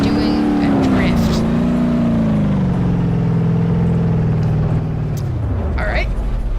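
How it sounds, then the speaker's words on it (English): A black car drifting in the BeamNG.Drive driving game, its engine droning steadily with a pitch that wavers and slides as the back end swings out, loud and continuous throughout, ending with a brief higher rev burst. "You've got a black car doing a drift."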